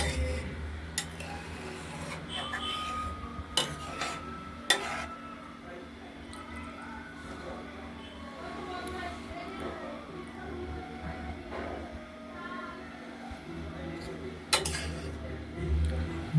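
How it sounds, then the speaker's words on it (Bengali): Coconut-milk prawn malai curry with river prawns simmers over medium heat in a wok, stirred now and then; scattered metallic clinks and scrapes of a utensil against the pan rise over a low, steady background. "মাঝে মাঝে নেড়ে দিতে হচ্ছে যাতে কড়াইতে না ধরে, কড়াইতে না লেগে যায়।"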